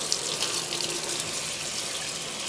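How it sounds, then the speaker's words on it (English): Water runs steadily from a tap as a metal sewing machine drip plate from a vintage Singer 403A is rinsed under it, a close, constant hissing splash with no speech. "Let's rinse this plate."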